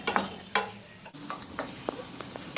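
Tomato masala with Kashmiri chilli powder mixed in water fries in a pan under a soft, steady sizzle, cut by irregular scraping knocks of a stirring spoon, quiet and close.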